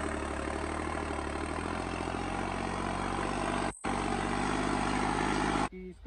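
A New Holland tractor with a turbo engine runs steadily with a loud, constant diesel drone, broken by a brief cut near the end and a short dip just before it.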